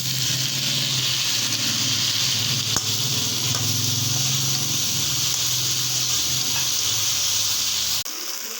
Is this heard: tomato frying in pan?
yes